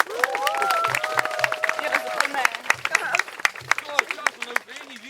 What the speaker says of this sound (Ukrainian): Аплодуємо нашій артисті.